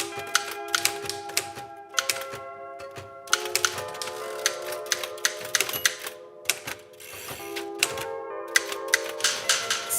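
A manual typewriter is typed on at a repairer's workshop, giving close, crisp keystrokes in irregular bursts with brief pauses between them.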